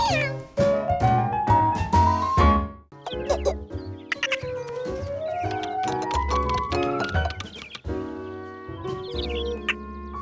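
A cartoon kitten belonging to an Italian restaurant owner gives a series of drawn-out, rising meows over lively orchestral music, several cries in a row, bright and close.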